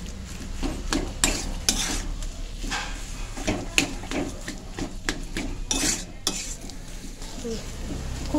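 Potato filling is stirred in a pan over low gas heat, a spoon scraping and clinking against the metal in an uneven, steady rhythm under a soft sizzle, close by.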